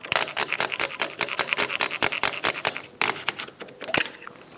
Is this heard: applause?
no